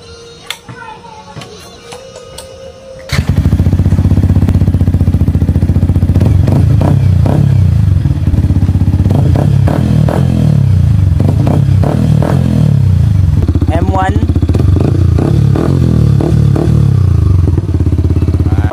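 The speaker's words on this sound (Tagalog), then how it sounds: "So una natin try M1 mga boss. So sound check natin para sa Yamaha R15." A Yamaha R15 motorcycle fitted with an aftermarket M1 muffler starts up loud and close after a quiet moment, then idles with a throbbing exhaust note and several sharp revs, a person talking faintly underneath.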